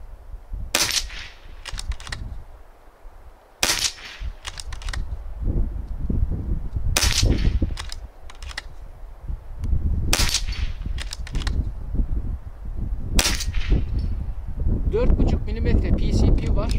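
Air rifle pellets strike a concrete reset target outdoors, five sharp cracking impacts spaced a few seconds apart, each trailed by brief rattling as the target moves, under someone talking in Turkish with light wind noise.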